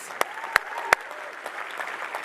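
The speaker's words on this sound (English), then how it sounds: "We need to give a clap to our speakers." A conference audience applauds its speakers at the closing session of PyCon AU 2024, with a few sharp, distinct claps standing out over a steady wash of clapping from the crowd.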